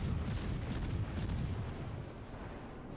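Naval gunfire in World of Warships, a destroyer's guns firing at an enemy cruiser behind an island, heard as a dense run of deep booming blasts that rumble on and fade out over a few seconds.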